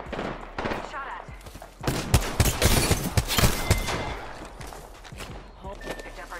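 Gunfire in the Apex Legends video game, with several rapid bursts of shots and sharp cracks in quick succession, loud and close, mixed with footsteps and game noise as a voice talks over it.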